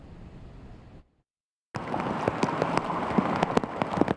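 Rain falling steadily at a city bus stop, heard as a dense, close hiss with scattered drop impacts, briefly interrupted by a short silence before resuming louder.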